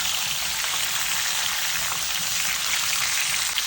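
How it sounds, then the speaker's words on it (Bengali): Courgette and aubergine fry in a pan with black cumin, making a steady, even, rain-like sizzle close up that stays constant throughout, with no talking. "এইভাবে আমি এটাকে ভেজে নেবো একটু।"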